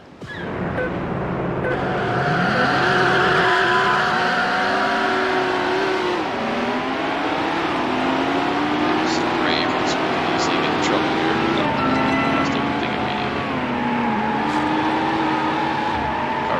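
Race car engine in Need for Speed Hot Pursuit 2 driving laps, a loud continuous drone that rises and falls with gear shifts, with occasional higher-pitched effects over it.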